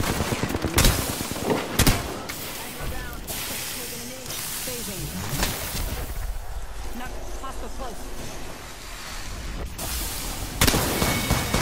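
Repeated bursts of gunfire from the battle-royale shooter Apex Legends crack out in sharp loud volleys, separated by hissing and in-game effects, while a voice talks over the action throughout.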